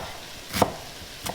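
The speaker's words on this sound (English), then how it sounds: "I am just chopping up all of my vegetables here" A kitchen knife chops onions and vegetables on a cutting board, two distinct crisp chops spaced about half a second apart, close and alone without speech.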